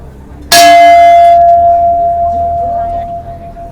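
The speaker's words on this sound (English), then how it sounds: "they have a chime bell here" A chime bell at Wat Rong Khun, the White Temple in Chiang Rai, Thailand, struck once with a bright metallic clang that rings on in a long, slowly fading tone.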